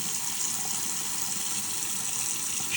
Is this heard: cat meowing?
no